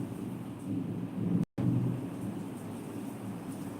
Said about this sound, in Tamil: ஆகா நல்ல மழை பிடிச்சிருச்சு